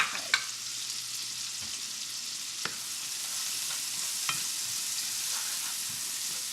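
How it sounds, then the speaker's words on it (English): Onions fry in oil over medium-high heat for a fish curry, giving a steady close sizzle broken by a few scraping strokes and taps of a utensil against the pan. "I've got about medium to high heat, and I'm cooking the onions here"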